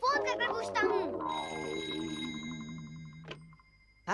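A telephone rings with a sustained trilling bell tone that runs for a couple of seconds after a voice speaks, then ends with a short chirp, in a cartoon episode of Doraemon.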